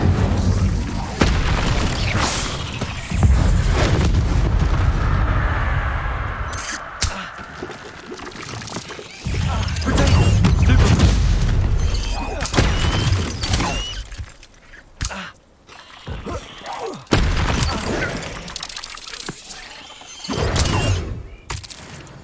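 Blasting spell explosions in Hogwarts Legacy combat, a series of deep booms and crackling bursts with debris-like scattering, loud and irregular with short quieter gaps between hits.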